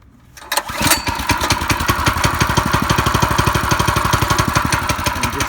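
A cold Yerf Dog 3203 dune buggy's small engine sputters and catches after a single pull-start, then settles into a steady, rapid idle chug, loud and close.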